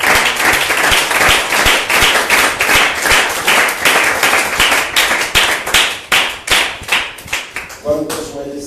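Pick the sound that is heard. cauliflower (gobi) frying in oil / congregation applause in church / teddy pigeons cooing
congregation applause in church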